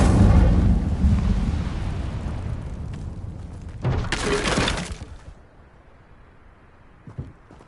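Incendio fire spell cast in Hogwarts Legacy, a loud rushing roar of flame that swells and holds for several seconds, then a bright crackling burst before fading to quiet ambience with a small pop near the end.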